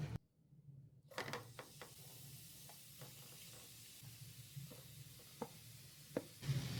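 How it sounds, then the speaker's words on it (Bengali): Grated guava frying with spices in a pan on a low flame, giving a steady soft sizzle with scattered light stirring clicks and scrapes, and no talk. "লো ফ্লেমে ফ্রাই করে নিচ্ছি।"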